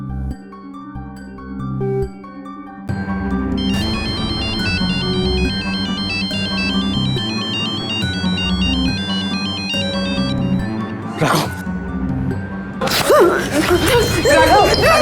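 A phone ringtone plays a repeating electronic melody for a long stretch without being answered, with a couple of brief noisy bursts near the end.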